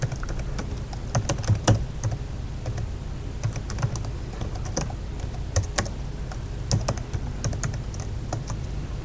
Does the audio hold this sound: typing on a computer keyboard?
yes